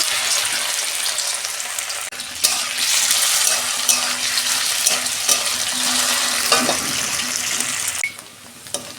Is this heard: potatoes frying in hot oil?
yes